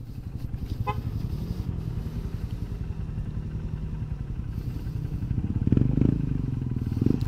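Honda CRF 150 trail motorcycle engine thrumming steadily up close on an offroad ride, with rhythmic pulsing exhaust that rises slightly in revs near the end.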